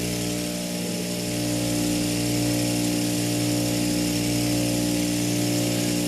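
A conical grinding wheel polishes a knife blade with a steady, continuous whine and hum from the motor, loud and unbroken throughout with no talking.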